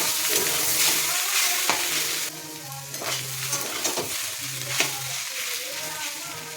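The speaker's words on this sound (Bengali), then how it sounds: "এবার ভালো করে নেড়ে নেব।" Steady sizzle of fish roe frying in a pan, with repeated scraping strokes of a spatula stirring it, close and moderately loud.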